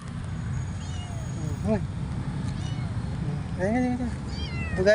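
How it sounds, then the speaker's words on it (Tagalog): An abandoned kitten on a bridge meows repeatedly in short, rising cries, close to the microphone over steady outdoor rumble, with a person speaking nearby. "Guys, ito yung pusa."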